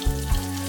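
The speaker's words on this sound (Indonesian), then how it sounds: "Yang pertama saya goreng adalah bawang putih" Garlic frying in butter in a pan for a potato chowder, a steady close sizzle with a soft bump or two, heard alone without talk.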